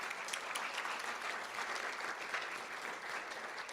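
An audience gives a round of applause at a school district board meeting, dense even clapping from a roomful of people, fairly soft and steady throughout.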